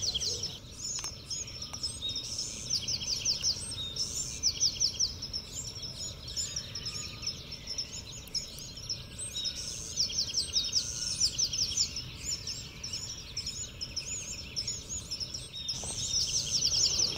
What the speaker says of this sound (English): I hear all kinds of sparrows.